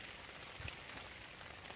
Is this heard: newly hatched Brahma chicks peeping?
no